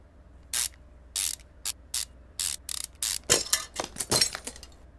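Ratchet clicking while unscrewing bolts in the Car Mechanic video game, a series of short sharp mechanical bursts that grow quicker and denser toward the end.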